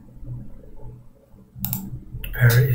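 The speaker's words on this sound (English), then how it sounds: "I'm gonna open a terminal over here. I'm gonna type go get and then the GitHub." Keys clicking on a computer keyboard as a command is typed into a terminal, a short burst of close, crisp taps after a quiet stretch, with a voice speaking over part of it.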